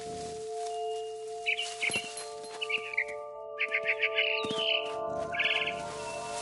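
Barn swallow chirping outside a window in What Remains of Edith Finch, a series of quick bright chirps and trills in short bursts over a steady tonal hum, fairly close and moderately loud.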